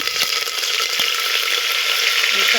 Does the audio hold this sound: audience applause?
no